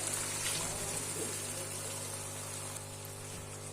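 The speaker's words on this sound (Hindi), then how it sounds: "आधा कप पानी डाल देंगे।" Half a cup of water pours into a hot pan of cumin potatoes, a steady hissing gush with a low background hum throughout, close and continuous without talk.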